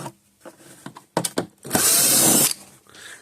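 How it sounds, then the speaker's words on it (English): A power drill or electric screwdriver backs Phillips screws out of the casing of an AC to DC power adapter for an electric fence energizer. It starts with brief clicks and short bursts, then runs one loud sustained whir of nearly a second, close up. "So let's take the screws out of this thing."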